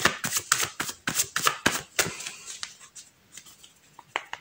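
Tarot cards being shuffled by hand at close range, a quick run of crisp riffling bursts that thins out into softer, scattered slides and taps toward the end.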